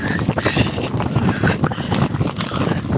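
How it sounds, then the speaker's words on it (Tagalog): Heavy rain and gusting wind roar steadily, with buffeting wind noise on the microphone throughout. "Grabing ulan, no? Grabing hangin."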